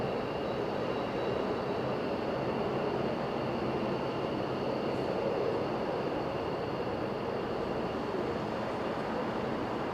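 A Boeing C-17 military transport aircraft at Okinawa airport gives a steady, broad jet roar with a faint high whine, continuous and moderately distant, without voices.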